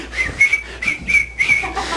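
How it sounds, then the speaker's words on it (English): A man whistles a happy tune in a live comedy show setting, a few clear, bright whistled notes in short phrases with small pauses between, close and solo. "Whenever I feel afraid, I whistle a happy tune, and I started whistling."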